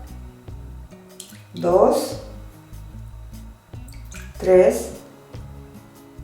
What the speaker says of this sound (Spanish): Lo que empiezo a colocar es el agua.